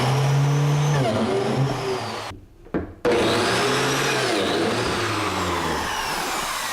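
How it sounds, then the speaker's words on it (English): A biscuit joiner cuts slots in the tops of wooden bookcase rails, its loud motor whirring steadily and close. The noise cuts out briefly partway through, then roars back. "Here I'm using a biscuit joiner to create small slots in the top of each rail."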